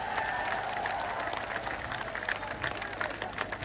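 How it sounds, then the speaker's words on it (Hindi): A large crowd claps steadily at a political rally in India, producing a dense, even wash of applause that fills the whole moment. "यहां मौजूद एक एक आदमी हाथ उठा करके ताली बजा के मुझे समर्थन दे"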